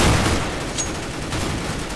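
Gunfire in the video game CS:GO during an Arms Race match, a dense clatter of shots at fairly close range lasting about two seconds.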